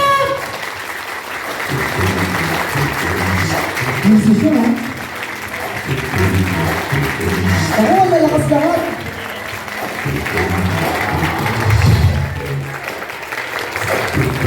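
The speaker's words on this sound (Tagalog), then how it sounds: "Palakpak!" Guests at an 18th birthday celebration burst into loud, sustained clapping that runs the whole stretch, with a host's voice calling out over the applause.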